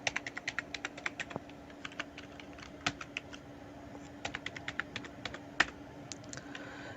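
A password is entered on a computer keyboard with a run of crisp, close key clicks in uneven bursts, pausing briefly midway before the tapping resumes over a faint steady hum.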